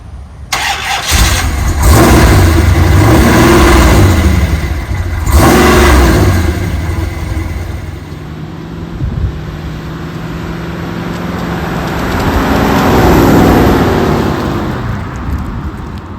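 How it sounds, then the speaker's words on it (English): A 1968 Dodge Coronet R/T with a Hemi V8 and TorqueFlite automatic starts and revs hard in loud, deep bursts up close. It settles into a rumbling idle, then swells again as the car pulls away. "It's a 68 Hemi Coronet RT."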